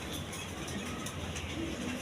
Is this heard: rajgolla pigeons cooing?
yes